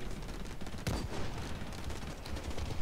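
Sniper gunfire in the video game Blacklight Retribution, a single sharp shot cracking out over a dense, noisy game background with no talking.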